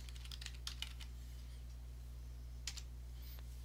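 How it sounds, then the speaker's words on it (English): Typing on a computer keyboard in a quiet room with steady electrical hum: a quick burst of soft key clicks near the start, a pause, then a few more brief taps later. "I'll type that in."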